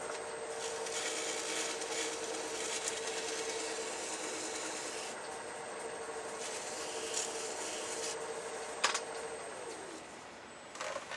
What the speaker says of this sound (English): Very lightly sand it out.